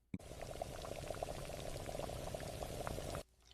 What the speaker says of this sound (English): I fill the pot with water.